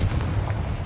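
Confringo fire spell explosion in Hogwarts Legacy, a booming blast with a low rumbling body that carries through the whole moment, loud and close without speech.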